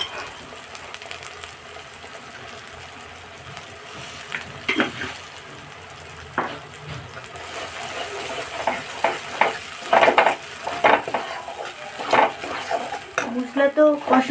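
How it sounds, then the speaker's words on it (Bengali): Paneer masala spices with kasuri methi frying in a pan, a low simmering sizzle that grows busier, with clinks and scraping stirs clustering toward the end, plus brief voice-like sounds. "মশলা তো কষানো আমার অলমোস্ট রেডি হয়ে গেছে।"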